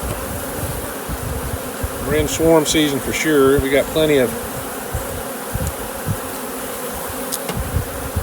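Honey bees on a brood frame keep up a constant buzzing hum while someone talks over it for a few seconds.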